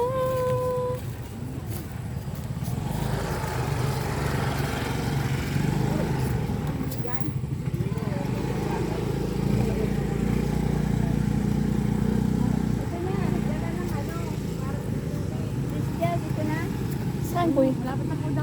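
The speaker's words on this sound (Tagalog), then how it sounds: "Oh, may motor." A motor engine drones steadily nearby on the way to a clear-water resort, loud and continuous throughout while people talk over it.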